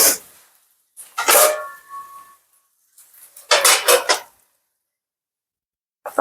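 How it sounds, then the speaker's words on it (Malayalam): A metal lid set onto a cooking pot in a home kitchen makes a couple of clattering, ringing clanks, with a brief tonal resonance after the first, separated by silence and followed by a short clink, close and fairly loud. "മൂടി വെക്കാം."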